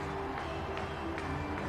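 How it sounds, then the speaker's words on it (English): Football stadium crowd cheering for the Tennessee defense against Wyoming, a steady, loud wash of roaring voices and clapping that fills the whole moment without letup. "the Tennessee defense getting the crowd up into the game"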